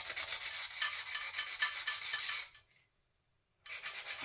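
Steady hand sanding of a TWOSUN TS27 D2 steel knife blade with sandpaper, a continuous close scratchy rasp that stops briefly near the end before resuming.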